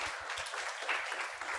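Audience applause at the COM-Unity Celebration 2022 gathering: a continuous, even patter of many hands clapping, moderately distant and steady for the whole moment.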